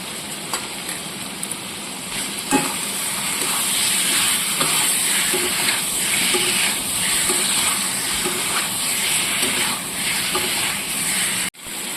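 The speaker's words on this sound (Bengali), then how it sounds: "এবার ভালো করে কষিয়ে নেব। স্বাদের জন্য সামান্য একটু আখের গুড় দিয়ে দিচ্ছি।" Potatoes sizzle and fry steadily in a pan with a little cane jaggery, a continuous close hiss broken by occasional stirring scrapes, with no voices.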